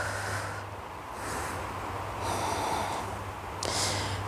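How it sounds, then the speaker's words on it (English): Slow, deep breaths drawn into the stomach during a yoga stretch, close and audible as a few long inhales and exhales with no talk. "And breathing deeply into the stomach."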